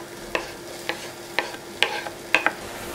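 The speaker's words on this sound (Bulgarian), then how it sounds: "Сипвам си праза и кромит лук," Chopped leek and onion sizzle in a hot frying pan on a stovetop, with a steady soft hiss broken by about six sharp scraping stirs spaced roughly half a second apart, close and fairly clear.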